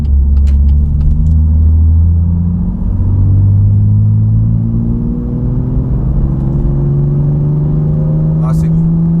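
A 2018 BMW M2 with M Performance exhaust pulls in fourth gear from low revs, a loud, deep droning rumble rising steadily in pitch as it accelerates, heard from inside the cabin.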